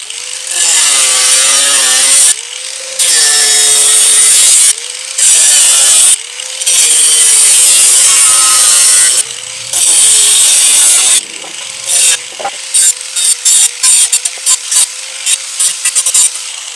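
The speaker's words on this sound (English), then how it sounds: "I need this wheel, which is a cutoff wheel, instead of that big thick daddy right there," An angle grinder fitted with a thin cutoff wheel cuts a window opening into a school bus body being converted into a tiny home. It makes loud, sustained high-pitched screeching cuts broken by short pauses, ending in a series of quick choppy bursts.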